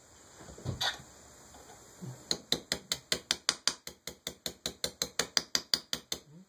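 A rapid series of sharp metallic taps, about twenty evenly spaced strikes from a small punch driving out the trigger pins of a Rise Armament RA-140 drop-in trigger, close and crisp, following a brief rustle.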